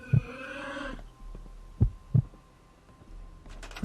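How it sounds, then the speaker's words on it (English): Heartbeat in Fallout 4: three soft low thumps, spaced well apart, under a droning hum, with a brief tonal sound at the start. "Well, I guess we get to listen to your heartbeat now."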